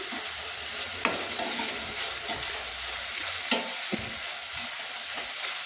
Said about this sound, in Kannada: ಫುಲ್ ಮೆತ್ತಗಾಗೋವರೆಗೂ ಇದನ್ನು ನಾವು ಹೀಗೆ ತಿರುಗಿಸ್ತಾನೆ ಇರಬೇಕು